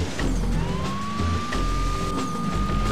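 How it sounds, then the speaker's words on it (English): A police siren, used as a car horn in a Lego video game, wails over a revving car engine, loud and close, with a rising tone sliding up and holding steady as the engine surges. "it's called a horn, even though it actually plays a police car siren sound effect"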